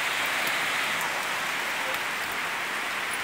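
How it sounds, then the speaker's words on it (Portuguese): Steady rain falls on a free-range chicken farm, heard from a sheltered spot among the hens: an even, continuous hiss of drops that stays level and fairly close throughout, with no voices. "tá dando uma chuvinha aqui boa"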